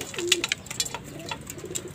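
Pet pigeons, Kaldum and fantail breeds, give soft close cooing calls, a few low throaty coos among light rustling and background noise.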